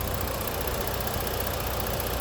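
A 3.5-liter engine in a 2014 Ford Taurus Police Interceptor idles with a steady, even rumble, close and continuous with no talk over it.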